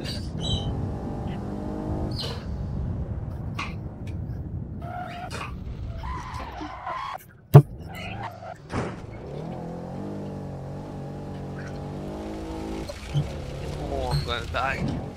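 A race car spins out on the Glen Sheil road in the Assetto Corsa video game, with steady engine drone, tire squeal and a sudden loud thump midway as the engine note drops, then revs back up, under bits of speech.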